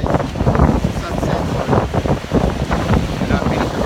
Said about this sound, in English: it's quite tiring being out in this wind for so long